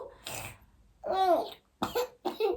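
A young child coughs several times in short, separate bursts with brief pauses between them, close and clear in a quiet room.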